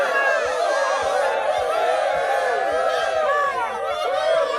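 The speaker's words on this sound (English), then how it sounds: "I think I've got like a cheering thing" A cheering crowd sound effect plays as a continuous, loud, dense roar of many voices, with whoops and shouts layered throughout at a steady level.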